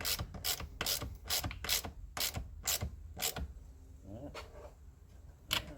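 A ratchet wrench tightening tow hitch bolts and nuts on a 2019 Ford F150, about nine evenly spaced metallic clicking bursts close up, followed by a quieter pause and a final click, with no talking.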